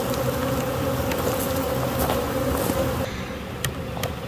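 A swarm of honeybees buzzes densely near a hive box, a loud continuous drone close by, thinning slightly toward the end, with no talking.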